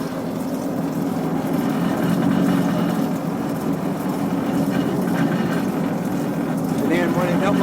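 A Ford F-600 wrecker with a Holmes tow truck bed running just after its first start, a loud steady engine rumble throughout without letup.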